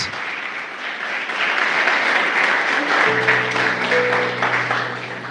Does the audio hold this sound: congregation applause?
yes